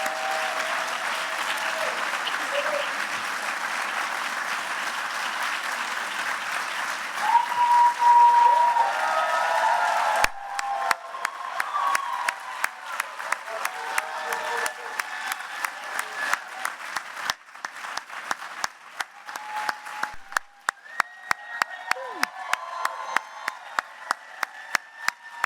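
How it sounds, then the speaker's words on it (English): Audience applause for finalists at a university thesis competition, a dense steady roar of clapping from a large crowd that thins into sparser, distinct claps toward the end. "so we can give them one more round of applause"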